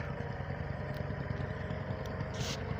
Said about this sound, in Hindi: अभी जो है ना वो सुहागा लगाना शुरू हो गया है ट्रैक्टर।